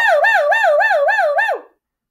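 A voice imitates a wailing ambulance siren during a music class, rising and falling in a steady looping pattern about six times before trailing off.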